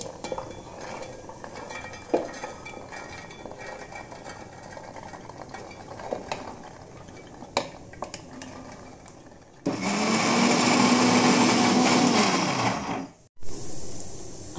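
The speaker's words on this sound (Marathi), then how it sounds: "मी ह्याला मिक्सरमध्ये मीडियम वाटून घेणार आहे" Kitchen mixer grinder coarsely grinding sweet corn kernels in its jar, starting with a loud dense whirring burst that runs a few seconds then cuts off abruptly, preceded by quiet clinks and handling of the jar.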